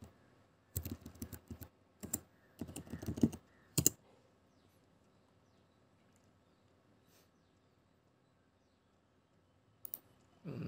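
Computer keyboard typing a Linux command: a few quick bursts of close, crisp key clicks in the first four seconds, then near silence and a last short flurry of taps at the end.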